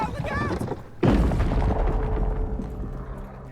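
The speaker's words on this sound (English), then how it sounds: "I used a bomb to gain access to the bench" A bomb detonates in the video game Grounded, a loud sudden boom with a thudding low rumble that decays over the next few seconds.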